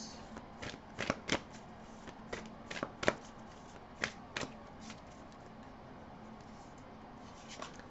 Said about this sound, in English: let's pull cards here from Whispers of Nature